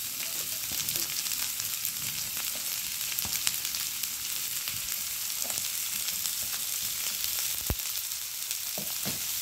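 Onions sizzle and fry steadily in a hot pan for a chickpea curry, a constant close crackling hiss with occasional sharper pops and spatters.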